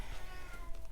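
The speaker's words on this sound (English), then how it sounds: "can you hear my cat meowing?" A pet cat meows once, close and clear, in a quiet indoor room.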